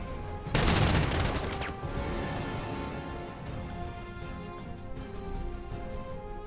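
A unit firing in the World War II strategy game Panzer Corps, set in 1940 around Lille: a sharp loud burst of shots near the start, then a decaying rumble and fainter battle noise, no speech.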